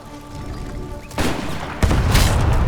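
Heavy booming blasts of cannon fire in Age of Empires 3 crash twice, each followed by sustained rumbling noise, loud and close with no talking.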